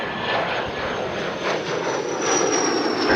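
Boeing 737 MAX 8 departing a Toronto runway, a loud steady jet engine roar with a high whine that climbs slightly, close and continuous with no voices.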